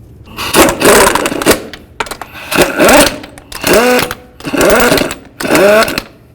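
Power impact tool spinning on wheel lug nuts of a 2009-13 Mazda 3, five loud whirring bursts of about a second each with rising pitch as the nuts seat, separated by short gaps, close up.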